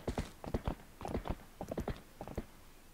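Horse hooves clip-clopping at a riding gait in the video game The Legend of Zelda: Twilight Princess HD, a clear, close, rhythmic run of hoofbeats in quick groups with no talk.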